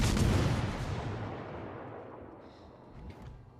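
Warship main guns firing in the naval combat game World of Warships: Legends: one loud booming salvo that decays into a long rolling rumble, followed by faint lighter sounds.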